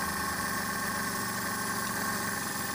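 A Maruti 800 with a carburetor engine idles in a steady, continuous drone with a low rhythmic throb, heard up close and unbroken, with no voices.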